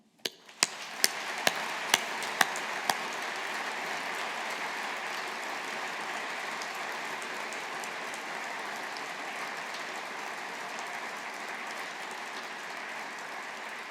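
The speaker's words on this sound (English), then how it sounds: "let us show our appreciation with a collective round of applause for our alumni" A few sharp, separate claps quickly swell into long, sustained applause from a large audience honouring graduating alumni at a Faculty of Science graduation ceremony, an even wash of clapping that fades slightly toward the end.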